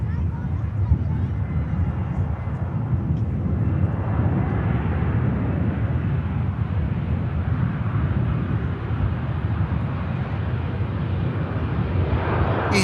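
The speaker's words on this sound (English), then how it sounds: "You have the Emirates Airbus A380 pushed back." An Emirates Airbus A380 taxiing out after pushback at Manchester Airport produces a deep, steady jet engine roar that swells gradually, heard from a distance amid wind noise, with people talking over it.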